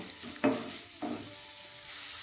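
Chicken and carrots stirred in a frying pan, two scraping strokes of the utensil over a continuous hiss of hot oil.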